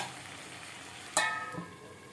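Brinjal, tomato and egg curry frying in a pan gives a steady soft sizzle, broken near the middle by a sharp clatter and a brief stir before the hiss settles again.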